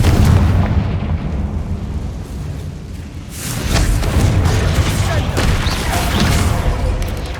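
A Confringo fire spell in the Hogwarts Legacy video game explodes with loud booming blasts, a heavy roar building after a short lull amid ongoing game sounds.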